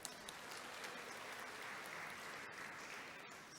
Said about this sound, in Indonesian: Nah, kita beri sekali lagi tepuk tangan.